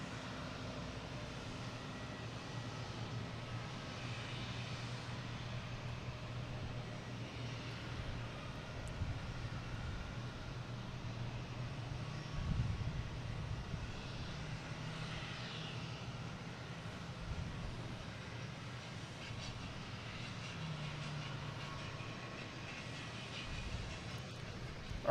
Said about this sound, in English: American Airlines coming in an A319, flight